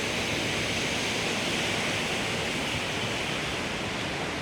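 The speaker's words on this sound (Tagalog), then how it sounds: "Yan yung bagyo, yung tubig na dala ng bagyong Ulysses." Floodwater from Typhoon Ulysses rushes through a swollen river in Cabuyao, Laguna, producing a loud, unbroken roar of churning water throughout, with no speech.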